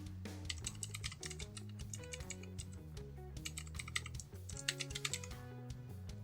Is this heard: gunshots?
no